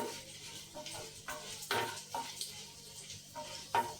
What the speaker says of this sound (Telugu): ధనియాలు జీలకర్ర ఇవన్నీ వేసేసుకొని వేయించుకోవాలి మామూలుగా